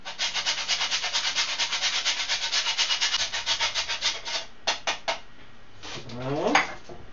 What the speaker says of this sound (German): Parmesan. Einfach drüber reiben.